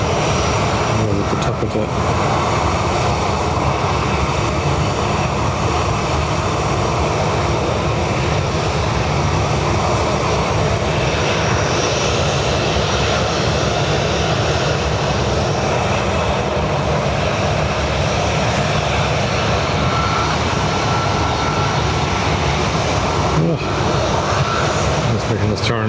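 ATR turboprop taxiing at Dublin Airport, a loud, continuous engine drone and whine that persists throughout, with a person talking intermittently over it.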